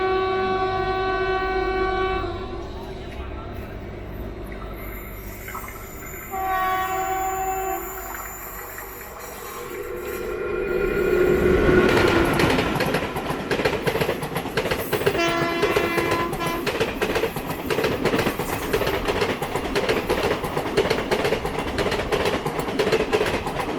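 The Palaruvi Express passes with a long, loud horn blast that builds from steady tones into a roaring rush of wheels and rhythmic clickety-clack. Further horn sounds rise over the continuing rumble, heard close by from a nearby train.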